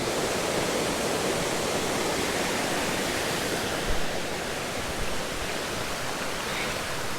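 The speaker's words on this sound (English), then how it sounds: "here we are at the top of the waterfall" Lilydale Falls in Tasmania roars steadily and densely, heard up close from the top of the waterfall, a continuous rushing wash of falling water with no voices.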